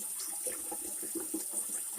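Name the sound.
water filling a large stock pot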